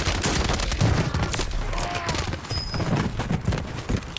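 Dense bursts of gunfire in Warzone 3, fast overlapping shots and rattling rounds filling the whole stretch at loud, steady level, with players talking over the shooting.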